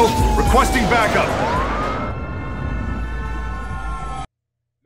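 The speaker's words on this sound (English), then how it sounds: "That's the sound of the police." Police car siren wailing in the video game Battlefield Hardline over rumbling engine and crash noise, the rising and falling wail trailing off before the sound cuts out.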